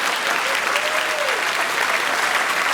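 A studio audience applauds and cheers loudly and continuously for the hosts of a motoring show, with a brief voice rising faintly through the dense clapping.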